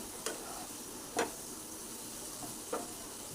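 Potatoes fry in a pan with a steady soft sizzle, while a spatula scrapes and stirs them three times in brief, clear strokes.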